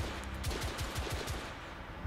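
A rapid burst of gunshots from The Order 1886 video game, about a dozen evenly spaced shots over two seconds, moderately loud with no talk.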